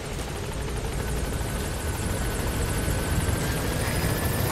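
Helicopter arriving in Metal Gear Solid V: The Phantom Pain, a steady, loud rotor and engine roar with rhythmic blade chop that holds constant throughout, no voices over it.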